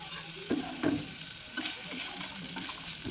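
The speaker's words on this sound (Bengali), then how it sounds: "পেঁয়াজ আর কাঁচা লঙ্কাটা দিয়ে আর একটু ভেজে নেব" Chopped onion and green chilli frying in a pan with chicken, ginger and garlic paste for homemade noodles: a soft, steady sizzle with a couple of spatula stirring scrapes near the start, close and quiet.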